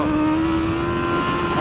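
A BMW S1000RR motorcycle accelerates on a race track, its engine holding a loud, steady high-pitched drone with a rising tone, close and continuous throughout.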